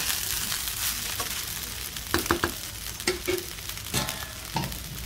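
Sabudana khichdi is stirred and turned over in a hot pan, with steady sizzling and frying broken by several close scraping clicks of the spoon against the pan, and no talking.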